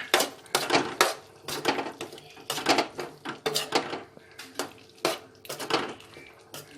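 Spoon clinking and scraping in a pan while mango-ginger pickle is stirred with fenugreek powder mixed in, a series of sharp metallic taps and scrapes in uneven rhythm, close and moderately loud, with no talking.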